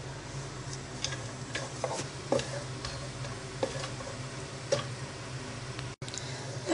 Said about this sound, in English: roast the cashew nuts till it turn brown